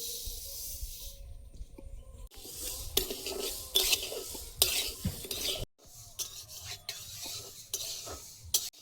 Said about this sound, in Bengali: ডালটা ভেজে নেব শুকনো খোলায়